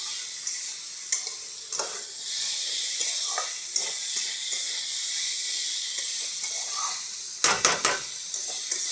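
Potatoes, banana flower and shrimp sautéed in a pan: a steady hiss of sizzling oil, broken by scattered scraping stir strokes and a louder clatter burst near the end, heard up close with no speech.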